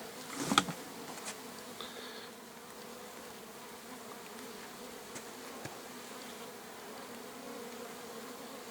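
Honeybees buzzing around a bucket hive, a faint, steady hum of many insects close by, with a brief louder knock near the start and no voices.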